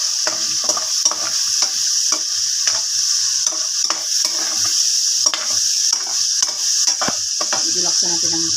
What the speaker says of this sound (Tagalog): Ilagay ko ng sibuyas at bawang,